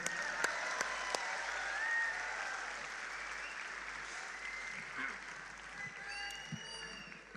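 An audience applauds at a Raju Shrivastav comedy show, with a steady, fairly soft wash of clapping and a few sharp claps standing out near the start.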